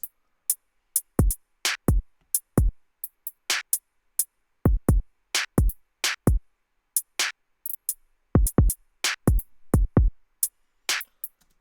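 A sparse hip hop beat of punchy kicks and snares with two layered hi-hat patterns weaving a bouncy, syncopated tick, clean and upfront with no vocals.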